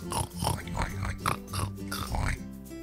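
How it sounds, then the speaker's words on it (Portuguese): A pig in the video game Minecraft grunts and oinks in a quick run of short nasal bursts, close and fairly loud, ending in a brief quieter tail. "Pô, Cris, é um porco mesmo"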